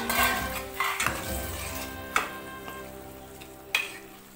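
Prawns cook in fried masala in a pan with a steady close sizzle, broken by a few sharp clinks of a utensil against the pan.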